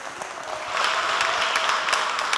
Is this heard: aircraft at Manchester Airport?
no